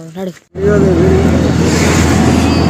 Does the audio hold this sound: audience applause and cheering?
no